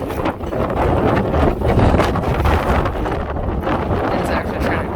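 Strong wind storm gusts buffet a docked sailing boat, a continuous rough roar with rattling and shaking throughout, loud and close to the microphone.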